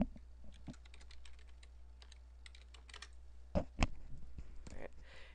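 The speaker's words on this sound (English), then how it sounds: "Actually, we can just type in Manicam." Quiet, rapid clicking of a computer keyboard as a search term is typed, a string of light key taps with a couple of sharper, louder strokes near the end, heard close up over a faint steady hum.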